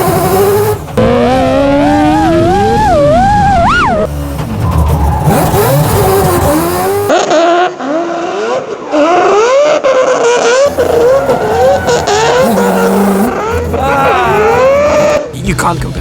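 A drift car revving hard and sliding sideways, its engine climbing and falling loudly through repeated bursts with tire squeal, close and intense, with people talking over it.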